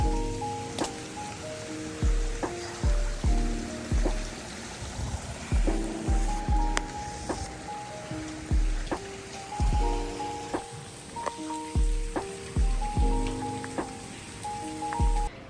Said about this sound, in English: It's nice to just hear the rain.